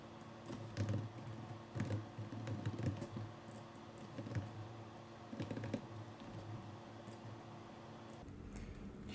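Someone types on a computer keyboard while filling out an online form, giving bursts of soft, close key clicks with short pauses in between and no voices.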